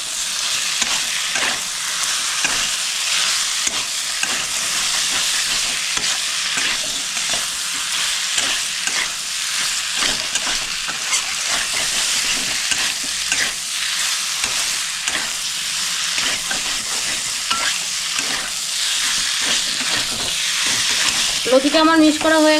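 Taro stolons being stir-fried with spices in a pan of hot oil, a steady loud sizzle broken by frequent scraping stirs, with a few sharper clinks near the end.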